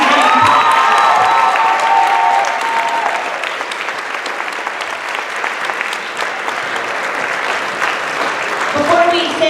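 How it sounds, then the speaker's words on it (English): An audience at a school performance of Willy Wonka claps and cheers loudly, with shouts and whoops rising over a dense wall of applause that gradually thins, and voices heard through it. "One more round of applause for this amazing."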